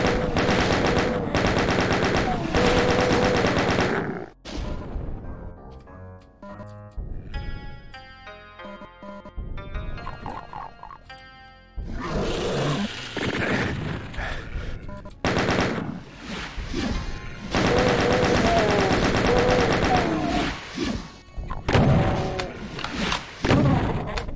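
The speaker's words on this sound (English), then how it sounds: "go ahead and give our chain gun some love" Chain gun fire in the Doom map Memento Mori comes in long, rapid, loud bursts of gunshots. A quieter stretch of musical tones breaks up the bursts, and heavy thumps and explosions sound between the volleys.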